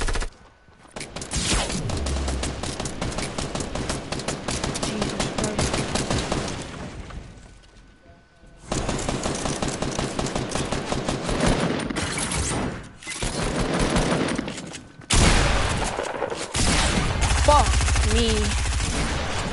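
Rapid video-game gunfire from a PS4 shooter, dense bursts of automatic fire and single cracks, loud and near, broken by brief pauses, with occasional speech underneath.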